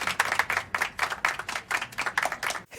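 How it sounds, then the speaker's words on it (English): An audience claps in a quick, steady rhythm, many hands together in sharp repeated bursts, fairly loud and close, then cutting off abruptly at the end. "just listen to them all clapping"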